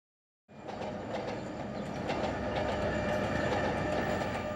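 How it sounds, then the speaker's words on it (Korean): A train crosses wide open fields near a small rural station, its wheels rumbling and clacking steadily after a silent start, growing slightly louder and holding a constant roar to the end. "긴 기적을 울리며 너른 들판을 가로지르는 기차"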